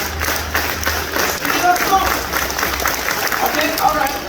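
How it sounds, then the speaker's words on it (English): A crowd at a dolphin show clapping hands together in a steady, moderately loud patter, mixed with voices and general crowd noise. "Clap your hands."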